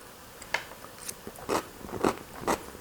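Crunchy bites and chewing of pickled daikon radish, close up, with several crisp crunches spaced about half a second apart over a quiet background and no talking.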